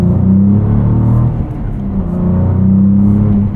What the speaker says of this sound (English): This V6 actually sounds good. It has tons of character.